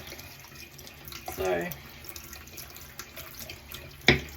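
Tap running only partly open into a sink while paint brushes are cleaned with soap; a low steady water hiss with a brief splash, under a voice saying a word.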